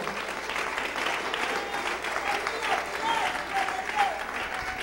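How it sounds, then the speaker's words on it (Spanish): A church congregation applauds, sustained clapping from many hands filling the room at a steady level, with some voices mixed in. "Dele un aplauso al Señor."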